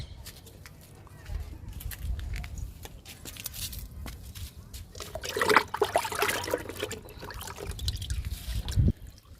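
Kitchen waste liquid poured onto a guava plant, an uneven trickling and splashing of liquid onto soil and leaves that swells midway, with a voice talking through it.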